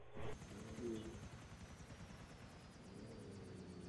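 Faint helicopter in a GTA game, a steady low rotor drone with a rhythmic chop, distant and quiet, with brief bursts of voices over it.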